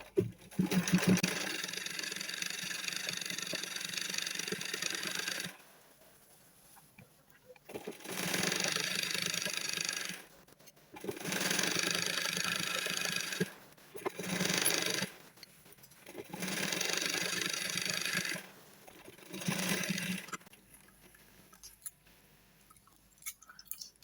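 A sewing machine stitches a quarter-inch seam on a fabric beret, running in four long steady bursts of several seconds each with short quiet pauses between, close and clear with no talking.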